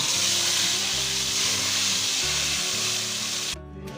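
Curry leaves and red chillies fried in hot oil are poured into kadhi, a loud, steady crackling sizzle that drops off abruptly near the end.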